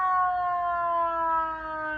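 A tour car at the Andy Griffith jail sounds its siren, a steady close electronic wail that glides slightly downward in pitch, loud and alone.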